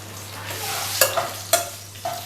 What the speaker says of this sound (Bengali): লঙ্কাটা একটু ভাজা ভাজা হয়ে গেলে